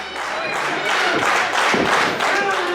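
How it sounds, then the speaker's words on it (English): A wrestling crowd claps and cheers at a live match, a loud steady roar of hands and voices that swells and surges in waves throughout, with a commentator's voice riding over it. "this crowd coming alive for the Puerto Rican Pitbull"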